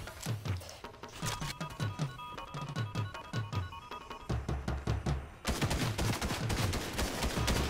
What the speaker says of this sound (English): Who is shooting at me?